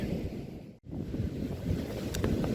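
Wind blows outdoors and buffets the microphone with a steady low roar, broken by one brief dropout near the start.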